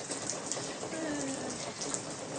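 Cold rain falls steadily outdoors as a broad, even hiss with faint patters, continuous and moderately loud throughout with no talking.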